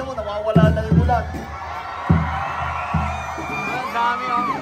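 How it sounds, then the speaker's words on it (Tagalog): A large outdoor political rally crowd shouts and cheers in heavy rain, loud whoops and yells swelling in waves, with a voice talking over the din. "Ang lakas kasi ng sigaw ninyo."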